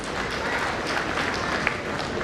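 A Lions Clubs International district gathering gives a round of applause, dense overlapping clapping from an audience that stays steady and moderately loud throughout, with a faint voice or two mixed in.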